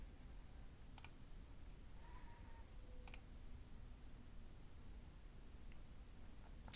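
Sharp, isolated computer mouse clicks sound at a few spaced moments over a quiet, low background hum, made while signing in on a web page.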